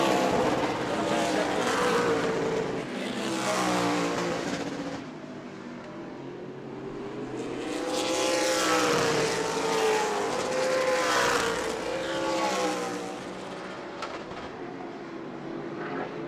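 Race cars in a Sunbelt Series event at New Smyrna run on an oval track, engines droning loudly and swelling as the field sweeps past, then fading; a commentator talks over the noise.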